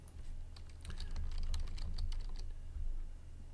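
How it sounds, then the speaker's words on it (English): Quick, light keystrokes tap on a computer keyboard in a short irregular run, close and fairly quiet over a low steady hum. "So I'm going to type in some information."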